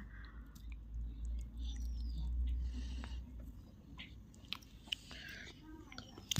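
Someone eating a homemade meal chews and bites food close to the mic, soft wet mouth sounds with low rumble and a few sharper clicks near the end, no talking.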